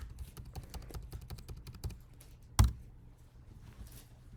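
Close, quiet clicking on a computer keyboard while working in SketchUp, a steady run of light keystrokes ending with one heavier thump of a key.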